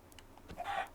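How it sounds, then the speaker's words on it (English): A Minecraft Bedrock chicken gives a short, faint cluck, one brief sound near the end of a quiet second. "This is a baby chicken. This is an adult chicken."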